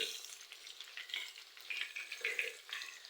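Chicken pieces sizzle steadily in hot oil in a pan while being flipped and turned, with soft scraping stirs breaking through the bright continuous crackle; no one speaks.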